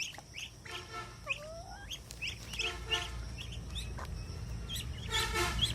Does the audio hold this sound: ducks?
yes